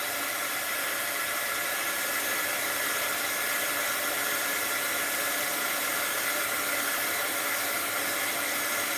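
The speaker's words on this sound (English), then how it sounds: "I'm going to hit it with the heat gun and see if it melts any of that glue." A heat gun blows hot air onto glue to soften it, giving a steady, unbroken whooshing hiss that holds at an even level throughout, close by, with no voices.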